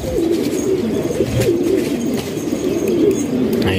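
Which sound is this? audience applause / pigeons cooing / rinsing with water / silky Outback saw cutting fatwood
pigeons cooing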